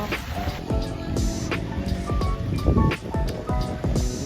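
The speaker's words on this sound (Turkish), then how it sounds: "Çok fena yağıyor şu anda." Heavy rain pours outdoors in Zonguldak, a dense, steady hiss of water on surfaces with scattered louder splashes and drips, loud and close throughout with no talking.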